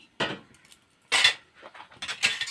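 Utensil stirring and scraping food in a cooking pot, with a few distinct metallic clinks and scrapes in separate bursts, close and fairly clear with no talking.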